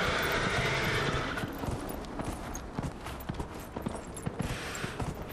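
Horse hooves clip-clop steadily across the ground in the fantasy video game Dragon Age Inquisition, a rhythmic run of close, clear footfalls with faint game ambience behind and no talking.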